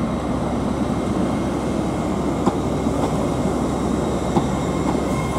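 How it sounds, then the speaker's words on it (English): LNER Class 800 unit 800 102, a passenger train, passes through London King's Cross station with a loud, steady rail rumble and faint intermittent wheel clicks, and no voices. "There goes the 102 train, 800-102."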